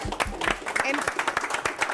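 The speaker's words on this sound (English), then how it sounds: "give him another round of applause" A short burst of clapping from a small studio audience on a radio talk show, brisk and close, with voices talking over the hands.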